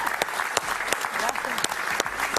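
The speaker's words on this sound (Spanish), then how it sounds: "Un gran aplauso para ella." Studio audience applauding an interview guest on a talk show, steady clapping for about two and a half seconds with a few sharp louder claps and a voice speaking over it.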